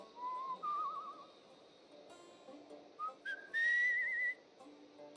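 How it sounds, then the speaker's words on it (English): A character in the video game Where The Water Tastes Like Wine whistles a short, wandering tune in several separate phrases, clear and fairly quiet over a soft background, with no talking. "let's just whistle."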